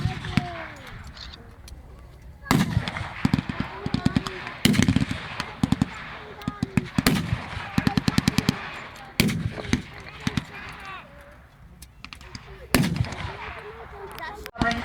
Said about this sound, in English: The Germans now engaging with the MG-42 and more troops come running into the field.